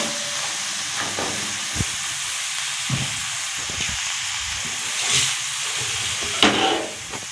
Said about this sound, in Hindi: इसको थोड़ी देर हम फ्राई करेंगे